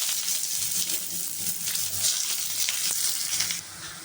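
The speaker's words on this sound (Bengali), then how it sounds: "এবার দিয়ে দেব কেটে রাখা পেঁয়াজ কুচি।" Chopped onion sizzles steadily in hot oil with cardamom, cloves and cinnamon for a banana-flower ghonto, a dense close frying hiss with faint scraping, easing slightly near the end.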